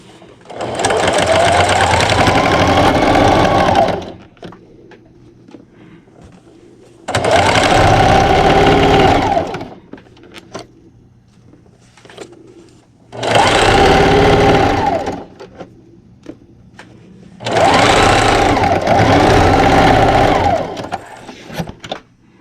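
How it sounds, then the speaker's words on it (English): A sewing machine stitches a seam on a dish towel in four long bursts of fast, steady whirring and needle clatter, separated by short quiet pauses. "I'm going to do the same thing and sew down one side first"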